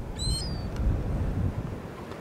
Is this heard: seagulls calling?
yes